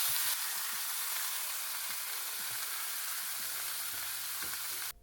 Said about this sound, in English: Added a little bit of olive oil to the cast iron skillet.